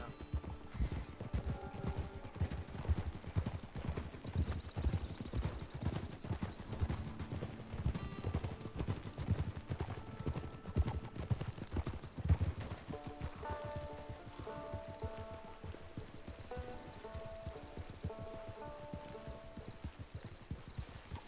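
Horse hooves clip-clop in a steady trotting rhythm while riding in the Red Dead Online video game, close and continuous, with occasional tack jingles and faint game music underneath.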